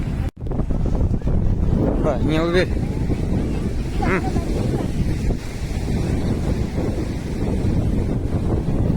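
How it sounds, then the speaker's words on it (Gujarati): Big sea waves on the shore at Somnath, a loud steady roar of surf mixed with heavy wind buffeting the microphone, while people talk briefly over it. "મોજા મોટા જબરા આવે છે"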